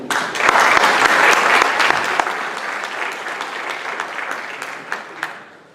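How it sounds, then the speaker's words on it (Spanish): A conference audience at a lecture on tall masonry buildings welcomes the speaker with full, loud applause that swells early, then gradually thins into scattered claps before fading out. "Un aplauso, por favor."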